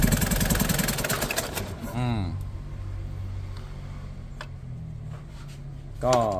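A Nissan Big M BD25 diesel engine, misfiring on some cylinders and blowing white smoke, runs loudly and roughly during a cylinder test for about two seconds, then keeps running lower while someone talks over it.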